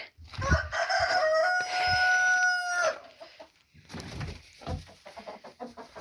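Inside a chicken coop being cleaned, a rooster lets out one loud, nearby, sustained crow. Hens cluck and straw rustles afterwards.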